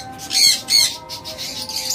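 A grey cockatiel gives two shrill, close calls in quick succession, followed by softer chirping.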